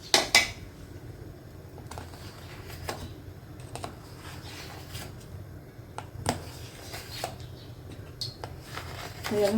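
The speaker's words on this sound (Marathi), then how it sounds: "आता मी याच्या कापून घेते वड्यांसारखं आकार आपला छोटा जसं बर्फी" Knife slicing through steamed alu vadi on a plate or board, close and dry: scattered sharp clicks and scrapes at an irregular pace, with a louder clatter at the start and end.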